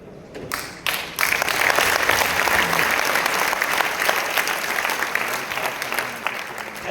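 A few scattered claps from an audience at a business seminar quickly swell into loud, steady applause that carries on to the end.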